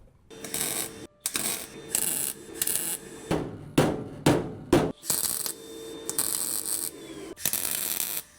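Tack welding a floor panel on a 1973 Dodge Charger: a series of loud, close crackling bursts of about a second each, separated by short silences, with a cluster of quicker pops midway.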